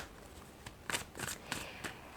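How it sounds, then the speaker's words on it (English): Tarot cards being shuffled by hand, heard as a few quiet, brisk riffling bursts in quick succession, close by and soft. "while I'm shuffling"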